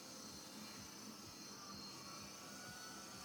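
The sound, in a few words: engine of a remote-controlled model airplane flying at night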